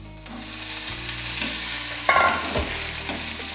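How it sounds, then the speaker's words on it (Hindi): Peas sizzle and fry in a pan over a medium flame for matar ka nimona, a loud, steady hiss close by, with a few scraping stirs of a spoon and no talking. "इनको मीडियम फ्लेम पर हम अच्छे से खुशबू आने तक इसको हम भून लेंगे।"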